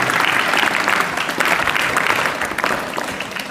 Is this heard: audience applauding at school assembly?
yes